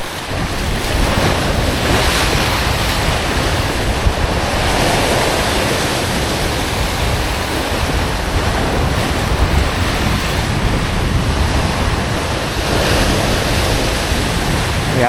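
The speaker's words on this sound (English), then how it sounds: "Pretty big wave right there." Ocean waves roll in on a rising tide beside a bridge in Rhode Island, a loud continuous wash of surf with wind buffeting the microphone, swelling and breaking steadily throughout.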